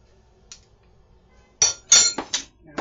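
A metal spoon mixing seasoning in a bowl for a cheesy Italian bread loaf, giving a faint early tick and then several bright, close clinks in quick succession.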